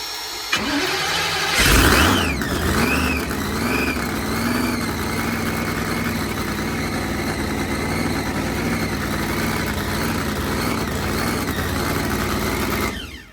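A 4000 hp blown Hemi engine in a Grand National cold-starts with a rising cranking whine, catches, then settles into a loud, rough, steady idle that cuts off abruptly near the end.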